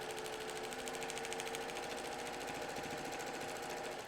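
A sewing machine stitches steadily down a line on a log cabin quilt block, a fast, even needle chatter with a low motor hum, faint and continuous without pause.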